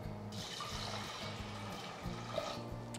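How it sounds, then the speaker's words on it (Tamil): About 600 ml of water pours steadily into a pressure cooker pot of washed lentils in a home kitchen, a continuous close splashing rush with no talking. "600 ml தண்ணி விட்டாச்சு."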